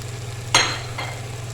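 Fried shami kebabs drop into a pan of well-fried masala with a sudden loud sizzle that quickly settles into a softer hiss, then a second, smaller sizzle follows.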